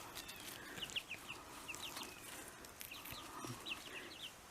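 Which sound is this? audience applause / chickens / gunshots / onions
chickens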